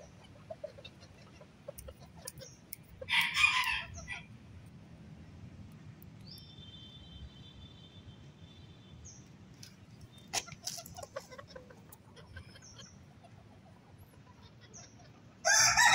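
Cocoa-coloured bantam chickens crow and cluck in a quiet setting, with a few scattered clucks, two louder crowing bursts early on and near the end, and faint background ambience.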